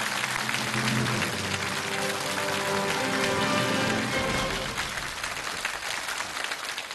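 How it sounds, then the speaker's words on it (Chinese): Studio audience at a televised lecture show clapping to welcome a speaker onto the stage, a dense, sustained wash of applause that holds steady for several seconds and then thins out toward the end. "掌声有请曲道奎先生开讲。"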